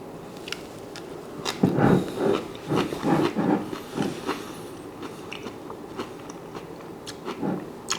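Crunchy fermented Napa cabbage kimchi being bitten and chewed up close, a cluster of crisp crunches followed by slower, fainter chewing that tapers off.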